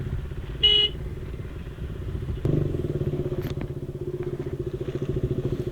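A motorcycle rolls slowly along a winding mountain road through cloud-covered hairpin bends in Sikkim, its engine a steady low rumble that swells and throbs rhythmically after a brief clatter, with no one speaking.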